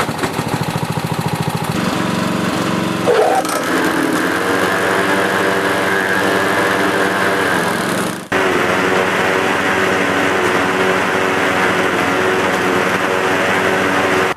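A Husqvarna LR12 lawn tractor engine running steadily nearby, with a shift in its loud droning note as the mowing deck is engaged, continuing without speech.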